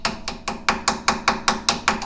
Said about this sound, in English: you can take your weight hammer